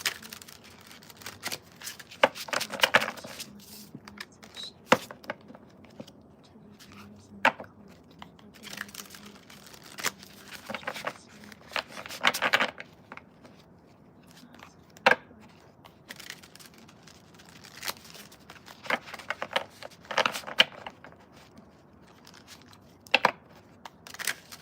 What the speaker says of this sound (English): Alright, that's the last shuffle.